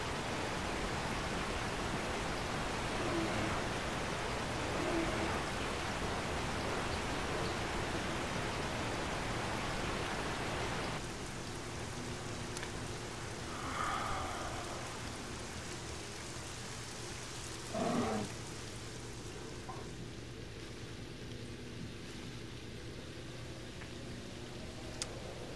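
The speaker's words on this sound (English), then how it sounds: "Stop it with the rain." Steady rain in the 7 Days to Die game world, a dense continuous hiss that drops somewhat in level partway through, with a few faint brief knocks and rustles over it.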